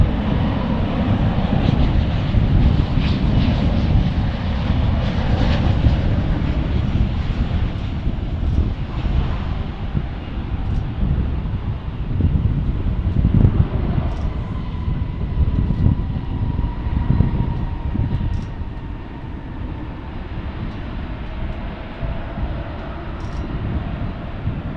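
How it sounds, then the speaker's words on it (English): An Airbus A320neo airliner on final approach at DFW International Airport in Dallas, Texas, gives a loud, steady engine roar that holds for the whole stretch, with a faint high whine riding above the broad rumble. "We got an A320neo on final for 1A right."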